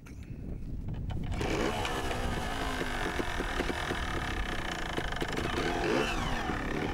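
A trials motorbike starting up at a teen trials event, its engine catching after a brief quiet moment and then running with a steady buzzing drone and wind buffeting the microphone, close by.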